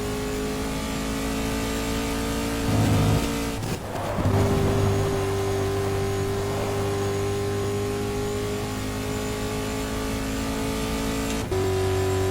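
Race car engine in GTR2 at Spa-Francorchamps, holding a steady high drone with a brief surge and lift-off midway, then another gear change near the end, loud and continuous with no talk.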